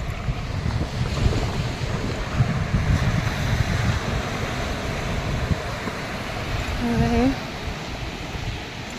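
Continuous roar of surf and wind buffeting the microphone at Benaulim Beach in South Goa, with a short voice heard briefly near the end.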